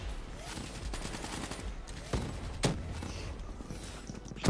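Quiet bursts of gunfire from a French-played multiplayer shooter video game, with scattered sharp shots and rapid volleys over a busy, low-level game background.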